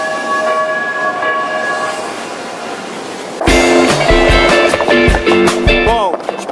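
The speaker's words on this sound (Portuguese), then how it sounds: "o trem tá virando a rua" A train rolls through a street in Los Angeles, first a faint steady tonal hum, then a sudden loud burst of clattering wheels, squealing flange tones and rattling cars close by, with voices talking near it.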